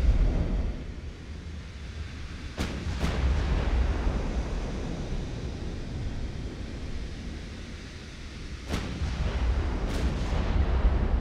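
Warship guns fire in the naval game Ultimate Admiral: Dreadnoughts, booming salvos landing as a few sharp cracks over a rolling low rumble of sea and distant thunder, with no talking.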